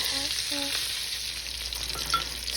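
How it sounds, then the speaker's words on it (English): Onions and serrano chiles frying in a pan, with a steady close sizzle and brief stirring clinks near the start. "So you're just gonna mix that up and cook up your cebolla and your chiles a little bit."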